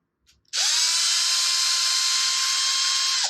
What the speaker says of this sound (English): So we need to get these screws off.